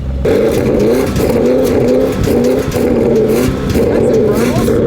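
Porsche Turbo GT SUV engine revving with a steady, loud throaty drone and pulsing exhaust burbles, rising in short swells, with a voice talking over it.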